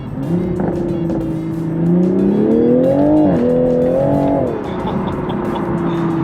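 A sports car drives with its window down, its engine note swelling and rising as it accelerates, then easing off, loud and close with wind and road noise around it.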